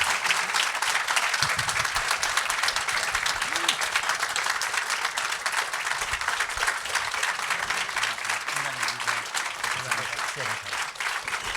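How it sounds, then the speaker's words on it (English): Sustained, dense clapping from a conference audience fills the room at an even level throughout, with faint voices and murmurs underneath. "So can we give a big round of applause for these three?"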